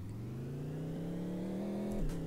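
Monster truck engine in the video game Project Wheels, a steady synthetic drone that climbs slowly in pitch as it revs, then dips briefly near the end with a faint clatter.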